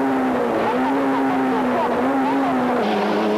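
Onboard a Citroën ZX rally car during the 1994 French Rally, with a broken gearbox: a loud, steady engine drone that holds a fairly constant pitch with small wavering shifts, close and continuous, under a commentator's voice.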